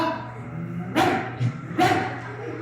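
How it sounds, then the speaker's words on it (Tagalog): Two loud, close dog barks about a second apart, each a sharp burst over a low murmur, played as a sound effect during a live stage performance in a school auditorium. "Boom, aso po yung lumabas."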